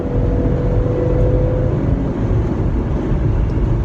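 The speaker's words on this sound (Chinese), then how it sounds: "咱们加个速" A 2017 Jeep Grand Cherokee, a 2.5-ton SUV, accelerates at highway speed from inside the cabin, giving a steady loud engine drone mixed with road and wind roar.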